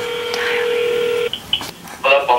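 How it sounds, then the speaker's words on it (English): Telephone keypad dialing tones: a long steady tone, then a short quick sequence of distinct beeps, clear and close, with a voice heard faintly around them. "Okay. Dialing."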